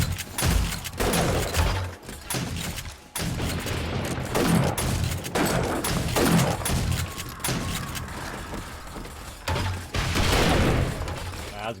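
Automated turrets firing in the survival game 7 Days to Die, a dense fusillade of rapid shots and crashing impacts that runs almost without a break, with brief dips and bursts of booming hits against attacking zombie hordes.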